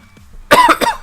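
A single sharp cough, close and loud, breaking into two or three quick bursts after a brief quiet moment.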